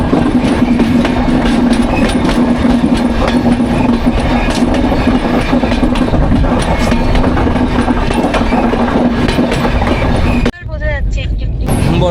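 Sairang Express train rolling steadily on rails through hilly country, a loud continuous rumble with clattering wheel noise throughout, ending in an abrupt drop near the end.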